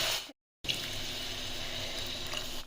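Water pours steadily into a pan of fish curry, a continuous close splashing stream after a brief cut near the start.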